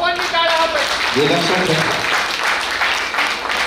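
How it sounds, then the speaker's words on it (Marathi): Audience clapping at a former students' reunion gathering, a steady dense wash of applause running throughout, with a voice speaking over it near the start. "खरोखरच मनापासून टाळ्या वाजवा."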